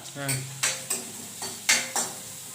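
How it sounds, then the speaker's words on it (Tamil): Onion and garlic sautéed in a hot pan, a ladle scraping and stirring in five or six distinct strokes over a soft sizzle, close and fairly loud with no talking. "பாதி வெங்காயம் பாதி பூண்டு போட்டுட்டு சரி மீதி இப்படி வச்சிருவோம் சரி வச்சுட்டு கரண்டி எடுத்து வதக்கிக்கலாம்"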